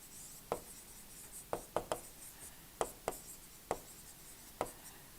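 Chalk or pen strokes tapping and scratching out an equation during an engineering lecture on reaction steam turbines, about eight sharp separate marks at an irregular pace, close and fairly quiet, with no talking.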